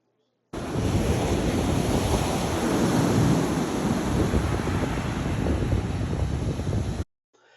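Ocean waves break on the beach near Taft in Lincoln City, Oregon: a loud, continuous roar of surf mixed with wind buffeting the microphone, with no voices.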